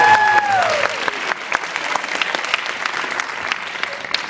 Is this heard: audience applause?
yes